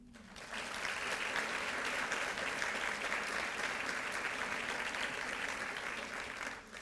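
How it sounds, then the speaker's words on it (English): Sustained applause from an audience at a women's gathering, a steady wash of clapping lasting several seconds before tapering off. "Would you mind just giving them a hand?"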